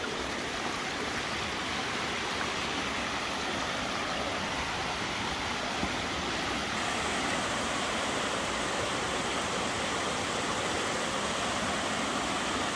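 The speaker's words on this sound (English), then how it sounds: "That's the waterfall." Emery Gap waterfall in Frozen Head State Park, Tennessee, flowing after heavy overnight rain, a steady, even roar of falling water, constant and fairly close, alone without voices.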